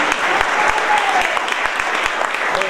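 A crowd claps steadily throughout, with dense, sustained applause filling the space.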